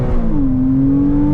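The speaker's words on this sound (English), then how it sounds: "Lots of intake sound." Intake roar of a Porsche 987.2 Cayman S flat-six as it revs, a loud close steady drone with a tone rising and then holding, no voices over it.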